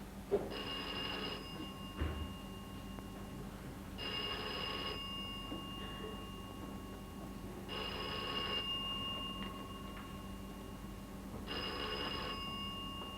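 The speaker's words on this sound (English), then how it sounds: "I think your phone's ringing." A 1960s telephone bell rings in four evenly spaced bursts, each about a second long, with quiet pauses between, fairly close and clear.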